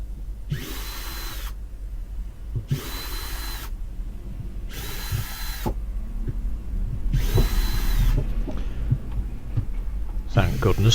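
A Ryobi power drill runs in four short bursts, whirring as it backs screws out of a step on a Hull Carver 3207 boat, with handling clatter and knocks between bursts.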